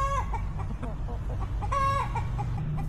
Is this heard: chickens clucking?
yes